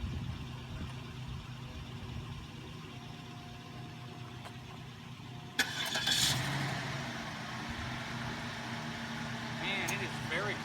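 After repairs, a Cadillac DeVille's engine cranks with a sudden start partway through and settles into a low, quiet idle over soft background noise.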